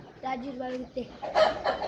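Farm chickens clucking nearby, a drawn-out tonal call followed by a few sharper clucks, with light background noise and no speech.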